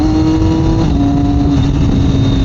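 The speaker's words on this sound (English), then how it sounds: "I'll say his exhaust is a little bit raspy." A 2021 Triumph Daytona 765 Moto2 motorcycle drones loudly under way, its raspy exhaust holding a steady, close engine tone that dips slightly in pitch as the ride continues.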